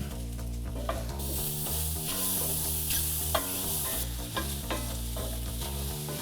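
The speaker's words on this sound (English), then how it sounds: "make sure you have enough oil in there to get a nice brown and caramelization on those lovely, delicious shiitakes. And you just saute." Shiitake mushrooms sauté in oil in a pan, giving a bright continuous sizzle with occasional stirring knocks, played over steady background music and with no voice.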